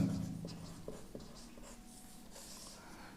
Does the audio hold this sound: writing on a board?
yes